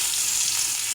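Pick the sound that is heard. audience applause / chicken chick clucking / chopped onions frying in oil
chopped onions frying in oil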